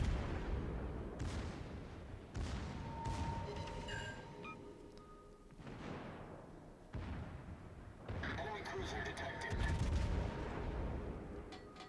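Naval gun salvos in World of Warships, deep booming blasts in several separate bursts with rumbling tails, heard under in-game sound and faint voice activity.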